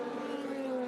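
Race cars at Le Mans, Alpine and Peugeot prototypes, give a steady high engine whine with a sustained tonal drone, heard at moderate distance without any pauses.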